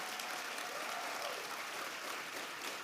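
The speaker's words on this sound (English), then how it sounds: "we need to give another round of applause for Mayor Ras Baraka" Steady, dense applause from a civil rights symposium audience honoring Mayor Ras Baraka, a continuous wash of many hands at even loudness throughout, somewhat distant.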